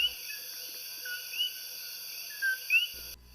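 A steady, dense chorus of high-pitched chirping calls from coqui frogs in Puerto Rico on a rainy night, continuous and fairly loud, with a few brighter whistled notes standing out.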